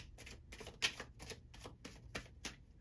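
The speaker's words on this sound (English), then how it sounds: "I want to keep shuffling" Tarot cards being shuffled by hand, a quiet series of crisp riffles and snaps about every quarter second, close and alone with no talk.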